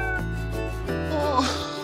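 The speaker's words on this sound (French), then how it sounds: "regardez la vidéo de chat qui est juste là" A cat named Timinou gives a couple of drawn-out, wavering meows, close and clear, over a steady low hum.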